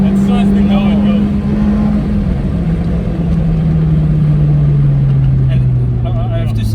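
Toyota Altezza with a 3S-GE engine giving a deep, steady exhaust drone that holds loud throughout and slowly falls in pitch, with people talking over it inside the car.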